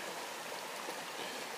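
Stream water rushing steadily past a stream-powered water pump outdoors, a continuous close hiss and burble of flowing water with no talk.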